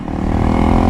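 A Honda CRF 300L motorcycle accelerates, its engine building to a loud, close, steady roar over a brief moment.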